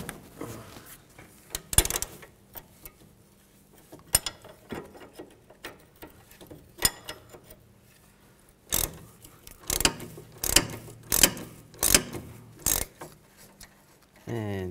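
Ratcheting and clicking from a 6mm hex bit and wrench loosening a front sway bar link nut on a 2013-19 Nissan Sentra, with irregular mechanical clicks and a denser burst of loud ratchet strokes toward the end.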